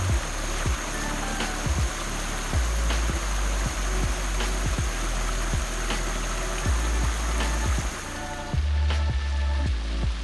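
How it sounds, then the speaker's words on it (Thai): Water flowing steadily in a garden at a resort in Khao Yai, a constant close rushing wash with a low rumble and faint regular taps beneath it. "มีเสียงน้ำไหล สร้างความสดชื่น"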